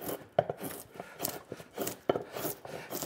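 Slicing cuts into the solid wooden seat of a sack-back Windsor chair, going about halfway through its thickness: close, rasping wood-cutting strokes in uneven bursts, with a couple of sharper bites as the edge catches.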